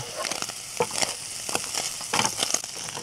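Food fries in a pan outdoors ahead of eggs going in, a close, crackling sizzle with stirring scrapes and uneven pops throughout.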